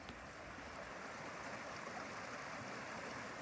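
Creek water near Thetis Lake Park rushes in a steady, loud broadband wash with no breaks, close by and alone.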